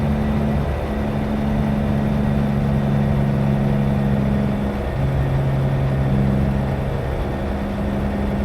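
Truck engine in American Truck Simulator idling and droning steadily after a botched gear shift, a low continuous hum with slight pitch changes throughout, no talk.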